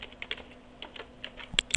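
Keys tapped on a computer keyboard while typing CSS code, a quick irregular run of light clicks at close range, growing briefly louder near the end, with no voices.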